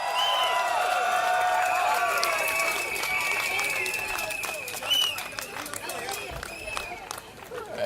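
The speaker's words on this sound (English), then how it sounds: "Young people, give yourselves a round of applause." A large crowd applauds and cheers at an SDP political rally in Woodlands Stadium, the clapping dense and sustained with voices calling out over it, then easing slightly toward the end.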